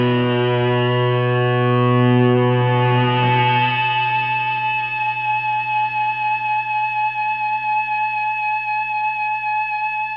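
An electric guitar note sustains into feedback through effects, a distorted chord that settles into a steady, ringing, higher harmonic tone holding on and on, loud and alone.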